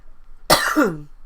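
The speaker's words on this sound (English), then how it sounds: "I'm coughing in y'all." A single sharp cough, close and loud, ending in a brief voiced rasp before quiet returns.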